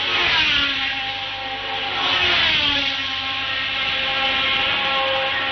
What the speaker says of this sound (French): Le moteur de Regazzoni fait un drôle de bruit.